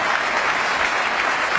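Snooker spectators at the 2010 Wembley Masters, during Selby versus Allen, clapping in an arena, a brief, full burst of steady, even applause.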